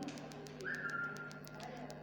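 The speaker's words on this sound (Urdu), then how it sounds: "سیٹی بجا کر" A teacher blows a whistle to signal the start of a children's running race during a school sports event: a single sustained whistle tone held for about half a second, moderately clear over faint background noise.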